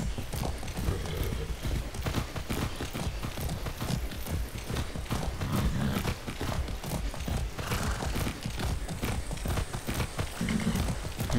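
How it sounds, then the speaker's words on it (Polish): Horse hooves clip-clopping steadily during riding in the video game Far Cry 6, a continuous rhythmic trotting close and loud, without talk. "I haven't ridden a horse since basic training."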